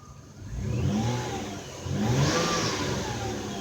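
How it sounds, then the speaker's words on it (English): A Ford Escape engine revved twice up close, each rise in pitch uneven and stumbling from a misfire, then settling back toward idle, with no talk. "I'm gonna rev it up and get it to misfire"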